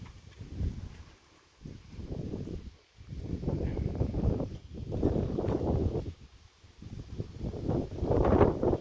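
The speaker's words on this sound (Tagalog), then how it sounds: "Lakas ng hangin" Strong gusty wind buffets the microphone beside a bypass road with creaking bamboo nearby, a loud low rumble that surges and drops in waves for the whole stretch, with brief calmer gaps.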